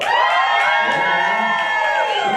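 A comedy show audience cheers and whoops loudly, with high shouts and screams rising over a dense, continuous crowd roar for a couple of seconds.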